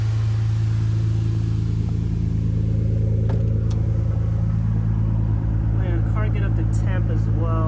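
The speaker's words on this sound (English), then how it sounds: "Letting the car run for a little bit." A race car engine runs steadily at idle, close and loud, its deep, even drone holding without rising or falling for the whole stretch.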